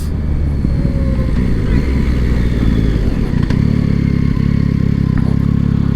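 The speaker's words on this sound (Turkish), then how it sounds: "Düşük devir giderken motorun sesi vesairesi gerçekten az" A Yamaha XSR900GP motorcycle engine idles and putters at low revs, a steady loud low rumble with light mechanical clatter throughout.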